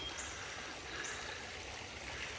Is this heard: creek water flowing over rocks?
yes